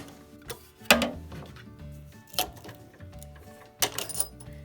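A bent engine valve from a 1.8T Audi/Volkswagen engine turns slowly in a chuck, making close, irregular metallic clicks and rattling clatters over a quiet mechanical whir.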